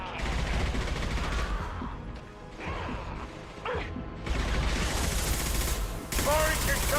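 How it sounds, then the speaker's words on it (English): Heavy combat gunfire in the Mass Effect 2 video game: loud bursts of rapid shots and mechanical clatter come in waves, with brief lulls between volleys. "Why do they sound like they're taking heavy fire?"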